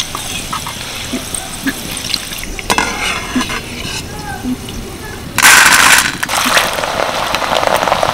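Split chickpeas (chana dal) fry in hot oil with a continuous sizzle, punctuated by sharp stirring scrapes and a loud burst of spattering midway, with a faint voice in the background.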